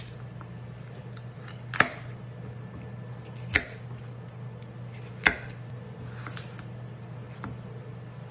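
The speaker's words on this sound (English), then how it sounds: "I'm gonna roughly chop pretty much everything" Vegetables for turkey stuffing being roughly chopped on a board: a few sharp, isolated knife thuds spaced a couple of seconds apart over a low steady hum, close by and without speech.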